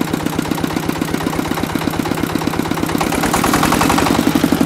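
A MAKTANI MT212 rice mill engine thumps close and loud in a rapid, regular beat. The beat grows louder and denser as the throttle is raised near the end.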